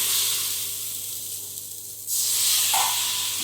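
Water splashed around a cooking naan in a hot pan hisses loudly and steadily, dips for a moment, then surges back into a bright, close sizzle.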